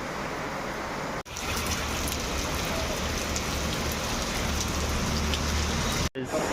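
Heavy rain pours steadily in a village, a dense, loud, unbroken hiss of drops on surfaces that fills the scene, with no voices over it.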